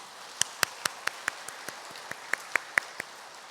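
Congregation clapping to welcome a newly registered church member during a Sunday worship service, a sparse, evenly spaced run of about a dozen sharp claps over quiet room tone, soft overall.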